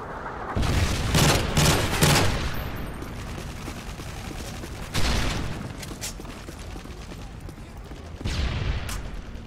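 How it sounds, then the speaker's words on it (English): Heavy booming blasts from a Predator missile strike in a shooter video game, several thunderous explosions rolling out with crackling debris and scattered gunfire, loud and close, with no speech. "Friendly Predator missile inbound."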